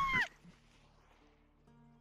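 A cat named Wilfred lets out a single short, fairly loud meow right at the start, followed by near silence with a faint low hum.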